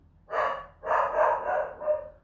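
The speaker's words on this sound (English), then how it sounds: "Something's roused the dog there, hasn't it?" A dog barks four times, close and fairly loud, a single bark followed after a short pause by three quick ones in a row, with nobody talking.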